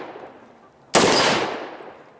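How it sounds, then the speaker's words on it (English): One sharp, loud rifle report from an Average Joe SCAR fired at a metal target fifty yards out, with a quick burst and a ringing tail that fades over a second, alone. "So he took him 3 shots to take it out."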